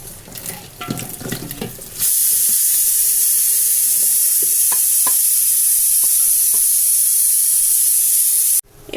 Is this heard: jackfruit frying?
yes